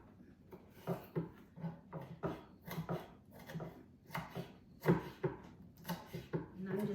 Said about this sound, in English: I'm just dicing these in smaller chunks